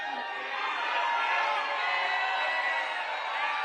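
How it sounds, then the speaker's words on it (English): A large crowd roars and cheers in a dense, sustained wash of voices and applause, steady and fairly distant. "The rousing applause going to that party."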